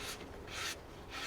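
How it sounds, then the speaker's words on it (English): Mold release wax rubbed by hand onto a fiberglass mold, three soft raspy rubbing strokes in a quiet room, close and faint. "We're putting our wax on, the mold release wax."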